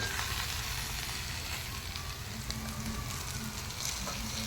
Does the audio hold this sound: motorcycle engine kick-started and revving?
no